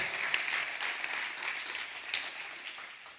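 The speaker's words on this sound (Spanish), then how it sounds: "Si va a aplaudirle a Dios, hágalo duro" A church congregation applauds steadily at a sermon, a dense, even wash of clapping from many hands that holds for a few seconds without pause.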